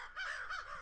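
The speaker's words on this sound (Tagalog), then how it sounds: "Oy, uwak!" A crow gives two quick, harsh caws outdoors, fairly faint and at a middle distance, with nothing else heard.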